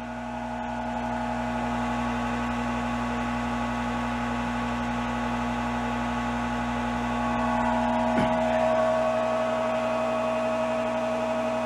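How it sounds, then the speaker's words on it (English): An electric well pump runs on backup inverter power, a steady mechanical hum with strong tonal drone that holds evenly throughout, with a brief click and slight rise in load partway through. "No trouble starting and running the pump."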